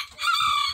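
A single short, loud squawk from a Japanese Shamo rooster rings out close by, harsh and nasal, with no voices.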